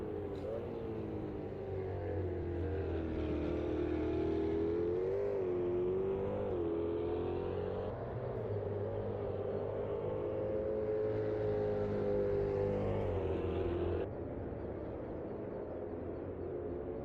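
An Ultima GTR race car engine in the Automobilista 2 racing game drones steadily as it leaves the pits on an out lap, its pitch rising and dipping with throttle changes, continuous and fairly loud with no talk.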